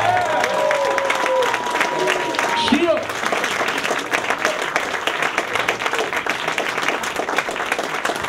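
An audience at a 2011 music showcase applauds a performer, with dense steady clapping and some cheering. A voice speaks over the start while the clapping carries on.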